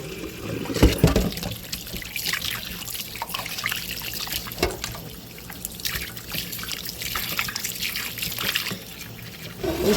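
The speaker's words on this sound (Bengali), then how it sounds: "এখন ময়লা পানি থেকে বারবার ধুয়ে পরিষ্কার পানি বের করে ধুয়ে" Water runs and splashes continuously as mutton is rinsed by hand, with intermittent drips and sloshing close up.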